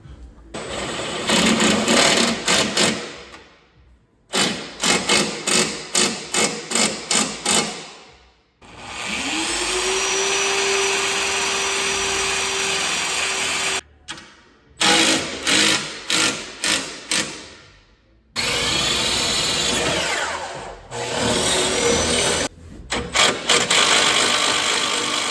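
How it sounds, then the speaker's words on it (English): A power drill bores holes for self-tapping screws while fender guards are installed, giving several bursts of rapid, stuttering whirring with a steadier rising whine in the middle, separated by short quiet gaps. "and then drill it to make these self-tappers going a little bit easier"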